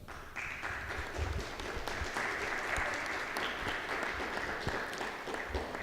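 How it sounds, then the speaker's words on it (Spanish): An audience at a forum on the Mexican Constitution of 1917 applauds to welcome a panelist, sustained, even clapping from a room full of people that starts just after the beginning and continues steadily to the end. "a quien de antemano lo recibimos con un caluroso aplauso"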